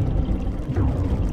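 Water sloshing and pouring in an underwater chamber in the shooter game Unreal Gold, a dense, steady wash of low rushing sound filling the whole short moment without pause.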